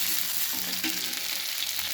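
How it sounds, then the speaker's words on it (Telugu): Onions and chana dal with cumin, curry leaves and dried red chillies sizzling in a pan for gongura pachadi, a steady close, broadband frying hiss with faint stirring, no voices. "ఎర్రగడ్డలు దూరగా వేయించుకుంటే బాగుంటాయి"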